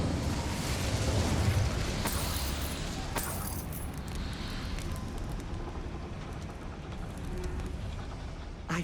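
An Incendio fire spell is cast in the video game Hogwarts Legacy, giving a dense, roaring whoosh of flame that starts loud and keeps burning steadily for several seconds, easing off slightly toward the end.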